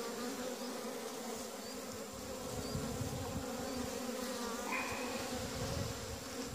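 Honey bees hum in a dense, continuous swarm drone during a hive inspection, the buzz close and steady throughout with an occasional louder bee passing near, no voices.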